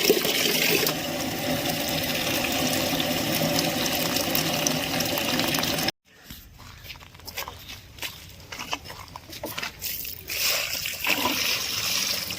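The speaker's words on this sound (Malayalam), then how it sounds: "ചെടികൾക്കൊക്കെ ഒന്ന് വെള്ളം ഒഴിച്ച് കൊടുക്കാൻ വേണ്ടിയിട്ട്" Water is poured from a bucket onto wilted plants, first as a steady continuous gush. After an abrupt cut come intermittent splashes and trickles at close range.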